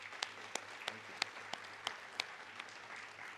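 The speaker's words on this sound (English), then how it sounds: "Can we just have a round of applause for him?" Faint clapping from an audience at a middle school awards night, a sparse, evenly spaced run of sharp claps over quiet room noise, soft and somewhat distant.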